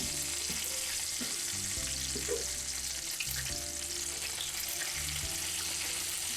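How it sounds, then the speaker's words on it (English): Bacon strips frying in a pan, with a steady dense sizzle and crackle throughout, occasional faint scrapes and pops, close and alone without talk. "it is about time to flip these strips of bacon"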